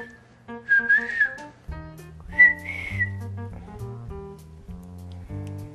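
A person whistles a classic tune: bright, wavering whistled notes in short phrases near the start and again midway, over a steady low tonal background, loud and close.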